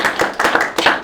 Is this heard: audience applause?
yes